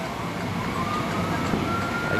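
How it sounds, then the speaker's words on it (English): A distant ambulance siren, heard at night from a train station, wails with a slowly rising tone over steady background noise, no talking. "I can hear the ambulance going off in the background."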